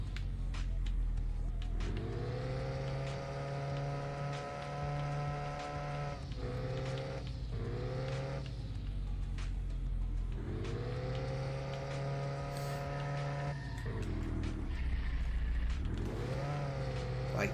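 The Spectyte race car's engine revs and shifts through gears in a racing video game, a loud continuous tone climbing and dropping with each change of speed.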